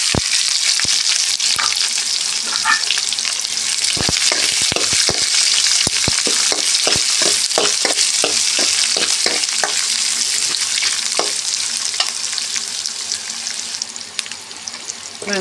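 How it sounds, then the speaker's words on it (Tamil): Finely chopped onions and mustard seeds sizzle loudly in a pan on a steady bed of frying hiss, with sharp crackles and pops that are thick in the middle and thin out toward the end. "வெங்காயம் நன்கு வதங்கணும்."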